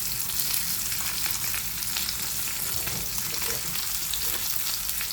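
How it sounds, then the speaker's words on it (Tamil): An egg fries in hot melted butter in a pan, giving a dense, continuous sizzle and crackle that holds steady throughout. "இப்போ முட்டையை போட்டு பொரிச்செடுப்போம்."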